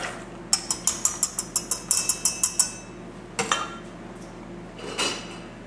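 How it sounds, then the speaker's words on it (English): Chocolate chips and pecans tumble into pie filling as a quick run of about a dozen sharp clinks against a bowl, followed by a few scattered louder clatters, close and alone. "I'm going to add my chocolate chips and my pecans."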